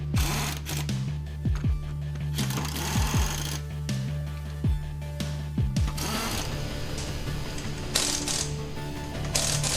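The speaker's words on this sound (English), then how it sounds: "Tighten the lug nuts in a star pattern." An impact wrench rattles in repeated short bursts while tightening wheel lug nuts on a 2004 Ford Taurus in a workshop, each burst a quick buzzing hammer over a steady background machine hum, with no voices.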